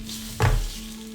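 Sausage and eggs on a grill, a low steady sizzle with one brief louder scrape or clatter at the middle.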